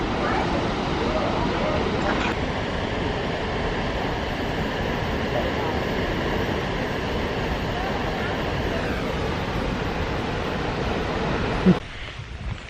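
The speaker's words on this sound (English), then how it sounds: "That waterfall was actually insane." A constant roaring rush of falling water from a waterfall in Laos fills the whole stretch, loud and unbroken, with a brief knock near the end.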